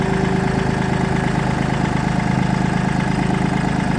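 A Mitsubishi MT205 4WD tractor engine idles steadily at close range while the machine backs up, a constant low mechanical drone with a fine rapid knock and no voices.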